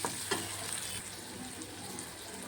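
Turmeric sautéing in hot oil in a pan with tomatoes gives a steady, close sizzle with faint stirring scrapes throughout, no voices.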